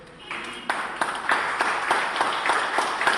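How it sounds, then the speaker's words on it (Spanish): A church congregation breaks into applause during a Spanish-language sermon, a moderate burst of overlapping claps that swells and holds steadily, fairly close, with no speech over it. "Usted puede darle un aplauso a Jesús por eso."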